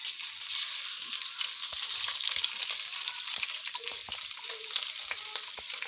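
Hot homemade caramel is poured over vattilappam egg pudding, giving a close, continuous crackling sizzle with small irregular pops throughout, with no talking.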